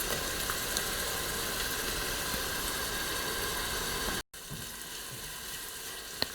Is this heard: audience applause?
no